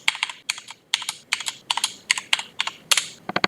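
Fingers type a password on a computer keyboard in short bursts of crisp, close key clicks, grouped in quick runs with brief pauses between them.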